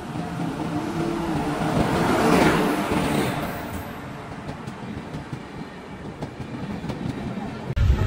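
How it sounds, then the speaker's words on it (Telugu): Konark Express pulling into a platform at a railway station, a steady loud rumble of rolling wagons swelling and then fading, with station crowd noise and voices underneath. "ఇదిగోండి ఫైనల్లీ మన ట్రైన్ అయితే వచ్చేసింది."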